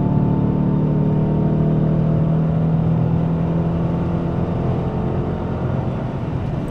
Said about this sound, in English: You can also kind of hear the engine sucking all that air.